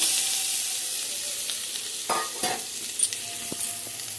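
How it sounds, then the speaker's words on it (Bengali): Spice paste fries in oil that has separated, a steady close sizzle broken by a few scraping stirs and light clinks toward the end. "মশলাটা তেল ছেড়ে দিয়েছে, দেখতে পাচ্ছেন ভাজা ভাজা হয়ে গেছে"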